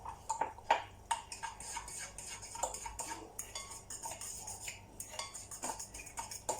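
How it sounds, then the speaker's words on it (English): A spoon mixes gulab jamun batter with baking powder and bicarb in a bowl, making brisk, repeated metallic clinks and scrapes at close range in an irregular stirring rhythm. "And we're going to give this a good mix."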